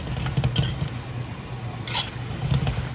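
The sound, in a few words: chicken stew being stirred in a pan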